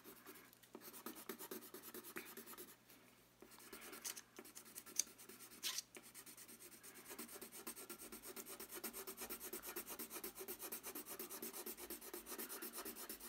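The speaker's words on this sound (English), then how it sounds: "To get my values to be darker when I'm shading, I have to press the pencil harder than I normally would." Graphite pencil pressed hard against a sheet of paper in steady shading strokes, producing a continuous close rasping scratch with a few louder scrapes and short pauses early on, then an even, persistent rubbing texture.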